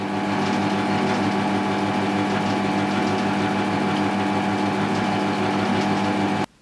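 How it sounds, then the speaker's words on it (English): A homemade bandsaw spins without its pulley belt, giving a steady loud mechanical whir with a faint rhythmic ticking and rattle throughout, then cutting off abruptly at the end. "I might run it without the pulley belt to see if that indicates which wheel has the more wobble."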